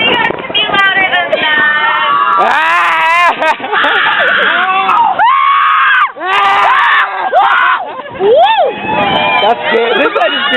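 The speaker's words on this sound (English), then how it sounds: "I want to hear you scream!" Screaming and shrieking from a crowd of riders on a swinging pirate ship amusement ride, loud and continuous in rising and falling waves with overlapping voices, some cries wavering up and down as the ship swings.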